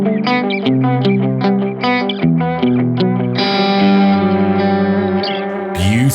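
Clean electric guitar through an Anasounds Utopia Deluxe delay pedal, set high in the mix with feedback up and preamp disengaged, playing notes that spill into rhythmic dotted-eighth repeats which stack and ring out, loud and reverberant, with no talking.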